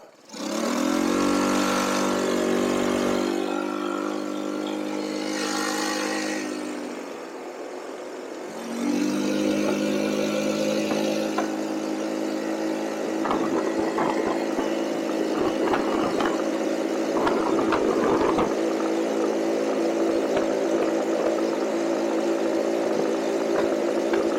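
The engine of a cheap used buggy runs with a loud buzzing drone that drops away around the middle as it cuts out, then returns and holds steady with some rattling, close by.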